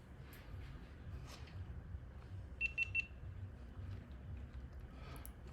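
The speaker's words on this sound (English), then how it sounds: "Wait for the beeps." A Skene controller wired for DRL lights on a Norden 901 motorcycle gives three short, high, evenly spaced beeps, faint but clear over low background noise.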